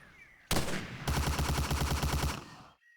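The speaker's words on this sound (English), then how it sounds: "it's a Tommy gun with a drum magazine" A Tommy gun with a drum magazine from a video game mod opens up in a single close, loud burst of rapid automatic fire lasting about two seconds before cutting off abruptly.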